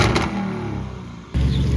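A widebody Lamborghini Urus revving on a city street, a loud sustained engine roar that dips briefly and then surges back up sharply.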